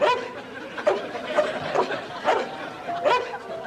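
A dog barks in several short sharp yaps spread across a few seconds, mixed with whimpers and chuckling sounds in a busy, moderately loud scene.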